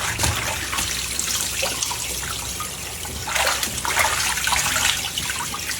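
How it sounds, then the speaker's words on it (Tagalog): Meat, pork intestine for adobo, rinsed under a running tap. Steady close splashing and trickling water with surges as the meat is moved under the stream, no talk. "Banlawan natin ng 3 beses."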